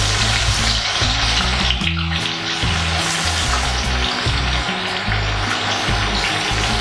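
Jackfruit (kathal) frying in a pan with onions, ginger and garlic gives a steady close sizzle under music throughout.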